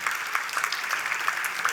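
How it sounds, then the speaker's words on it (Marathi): Applause from an audience at a documentary screening or credits event, steady clapping from many hands throughout, moderately loud and unbroken. "एकदा जोरदार टाळ्या त्यांच्या संकल्पनेसाठी"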